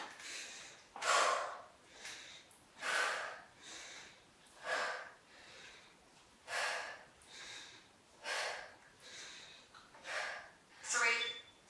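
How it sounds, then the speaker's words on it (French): Heavy rhythmic breathing during a full-body HIIT workout exercise, about nine strong exhalations at a steady pace of roughly one every second and a half, close and loud with no other sounds. "On souffle quand on remonte. On inspire en bas."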